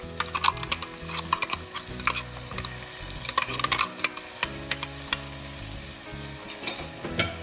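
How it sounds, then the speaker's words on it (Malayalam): Crab roast masala being stirred in a frying pan after a crushed spice mix is added: steady close sizzling and frying hiss with repeated sharp scraping and clicking of the spoon against the pan, no voices. "എന്നിട്ട് നമുക്കൊന്ന് നല്ലോണം ഇളക്കി കൊടുക്കാം."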